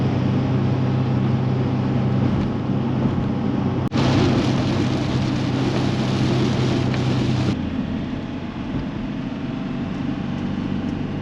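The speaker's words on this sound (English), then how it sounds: "a very wet and rainy Scotland" Heavy rain in wet Scotland, a steady dense hiss that grows brighter and louder for a few seconds midway, then settles back to a constant wash.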